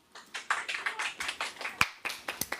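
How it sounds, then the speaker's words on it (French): Children in an after-school care centre clap together in a quick, uneven rhythm of distinct slaps, moderately close and fairly quiet, with no talking over it. "Oh ja, on applaudit aussi"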